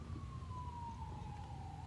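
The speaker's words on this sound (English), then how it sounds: "There's always an ambulance a lot." An ambulance siren wails faintly in the distance, one long tone slowly falling in pitch, held over a low rumble of background noise.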